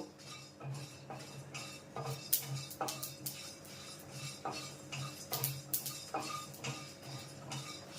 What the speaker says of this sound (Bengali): আমি হামানদিস্তায় গুঁড়ো করে নেব